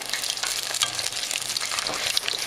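Battered sweet and sour chicken pieces fry in hot oil with a bright, crackling sizzle full of quick pops and bubbling, steady and close for a short stretch, with no voices.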